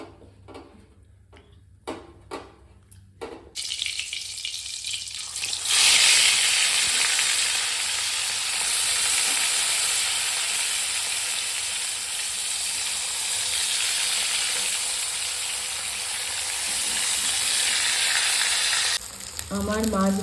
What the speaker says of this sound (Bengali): এখন মাছটাকে ফ্রাই করব।